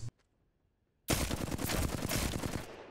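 Rapid automatic gunfire in the shooter game Apex Legends bursts in after a second of near silence and runs as one loud, continuous stream of shots to the end, with no voices.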